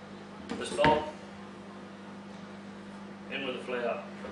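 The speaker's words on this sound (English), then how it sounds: "now that's in the microwave for a bit" A microwave oven runs with a steady low electrical hum during Anzac biscuit baking with spent grain. Brief bursts of speech and kitchen clatter sit over the hum.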